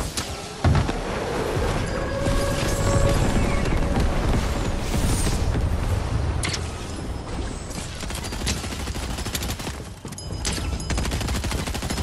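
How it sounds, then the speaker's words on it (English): Airstrike explosions in Roblox BedWars pound continuously in a thick, loud barrage of blasts and crackling debris, with mechanical clatter and a few sharper bursts throughout. "We're gonna airstrike and destroy these guys and take them out"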